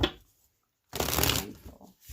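Tarot cards riffled in a single close, crisp shuffling burst lasting about half a second, with quiet handling before and after.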